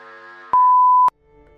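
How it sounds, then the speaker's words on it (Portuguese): A single loud, steady electronic beep tone lasts about half a second, cutting in abruptly and stopping sharply over faint background sound. "Após o bip, voltaremos à nossa programação normal."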